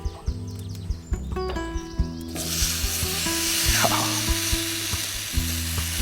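Mushrooms frying in oil in a pan over an open fire, a loud, steady sizzle that bursts in partway through and continues with stirring scrapes, while birds chirp in the background.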